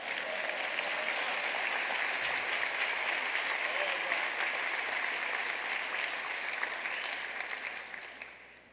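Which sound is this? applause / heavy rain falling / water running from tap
applause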